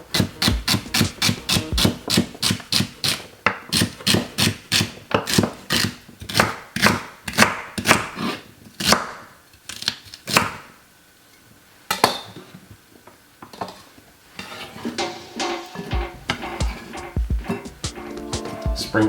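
Celery chopped with a knife on a cutting board while a Caribbean recipe is prepared: a quick run of close, sharp rhythmic knocks, pausing and resuming, with clattering dish sounds and a few louder strikes toward the end.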